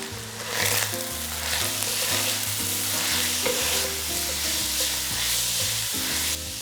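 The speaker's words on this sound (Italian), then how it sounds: "questa sta sfrigolando per bene" Meat sizzles and crackles steadily in a hot pan for Bolognese ragù, a dense hiss with occasional stirring scrapes, while soft music plays underneath.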